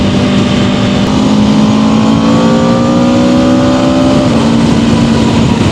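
Engine of a 2026 Aprilia RSV4 Factory superbike climbing through the revs under hard acceleration, a loud, steady, rising whine with a brief dip around a quick-shifted gear change, wind roar underneath.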